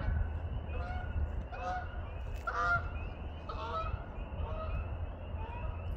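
Geese honk repeatedly in a loose, overlapping series at moderate distance over a steady low outdoor rumble, with thin peeping calls in the background.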